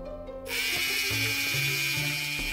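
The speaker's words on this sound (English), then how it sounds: "let's drill the other spot" A steady high-pitched electric whir of a small Play-Doh toy dentist drill, close by, starting after a brief pause and running continuously with slight changes in pitch.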